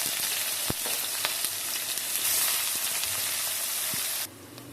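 Long-sliced onions frying in hot oil in a pan for Madurai-style egg kothu, a loud, steady, dense sizzle with a few faint stirring knocks, close up, dropping off abruptly near the end.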